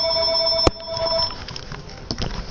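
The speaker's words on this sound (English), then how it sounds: "The telephone is ringing." A telephone rings with a short electronic trill, then fades into quiet background noise and soft indistinct sounds.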